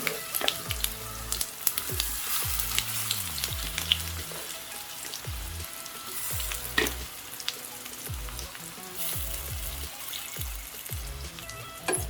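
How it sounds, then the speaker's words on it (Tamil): Slices of raw banana (vazhakkai) fry in hot oil with curry leaves and a tempering of lentils. The pan gives a steady crackling sizzle with repeated stirring scrapes and spatter pops throughout, close and moderately loud, with no voices. "இப்போ மிக்ஸ் பண்ணி வச்ச வாழைக்காய் சேர்த்துடலாம்"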